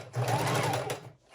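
Close and clear, a sewing machine runs a single straight-stitch burst of a little over a second through a paper pocket on a junk journal page, with an even, rapid whir.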